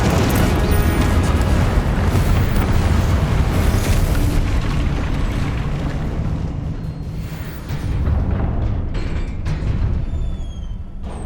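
A Confringo fire spell blasting in Hogwarts Legacy, with a loud sustained explosive roar and rumbling boom that fills the clip, then fades slightly before flaring again.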